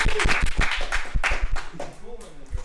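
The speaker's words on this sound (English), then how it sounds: "So let's just give a round of applause to Caleb real quick" A small group applauding for Caleb at a gathering where state player rankings are revealed, a few sharp nearby claps over chatter and voices, loose and uneven.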